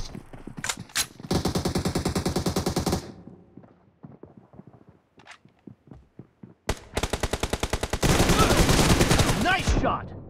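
Bursts of rapid automatic gunfire from the battle royale mobile game BGMI, loud and close, with two long sustained volleys separated by scattered quieter shots.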